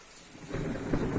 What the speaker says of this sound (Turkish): Yağmur bayağı yağdı.